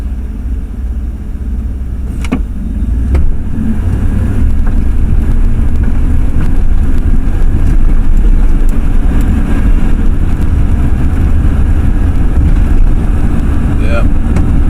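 A truck driving on the road, its engine and road noise a steady low rumble that swells after a couple of seconds, heard from inside the cab with a few faint clicks.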